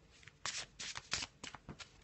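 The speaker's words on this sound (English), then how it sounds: "Let's give them a shuffle" Close, crisp riffling of a card deck, several quick shuffles in short bursts, each a dry flutter of cards snapping together.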